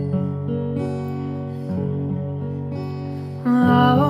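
Acoustic guitar strums a slightly modified chord progression, with sustained ringing chords changing every second or so and a brighter, louder strum near the end.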